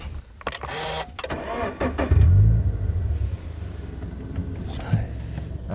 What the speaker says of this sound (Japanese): エンジンをかけたいと思います。